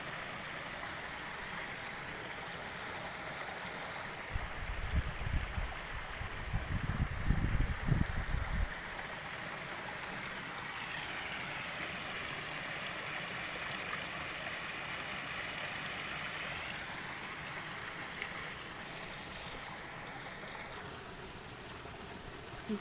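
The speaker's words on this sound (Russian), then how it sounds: "Течет вода быстро-быстро." Fast-flowing stream water at a trout farm in Zakarpattia rushes steadily and close by, with a brief low rumble of wind or handling partway through.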